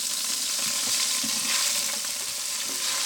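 A tempering of green chili and ginger sizzles loudly and steadily in hot oil in a pan for millet pongal, with a constant dense crackle and a few faint stirring scrapes.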